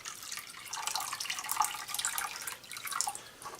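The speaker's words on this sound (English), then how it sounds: "Get some fresh water in here." Fresh, clear water runs steadily into a container from a tap, a continuous close splashing and gurgling stream with small fluctuations and no voices.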